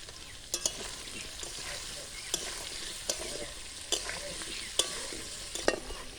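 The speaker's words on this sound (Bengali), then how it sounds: "আলু গাজর ভাজা হয়ে গেছে, তুলে নিচ্ছি।" Potato and carrot pieces fry in a pan, a steady close sizzle punctuated every second or so by sharp scraping stirs of a spatula against the metal.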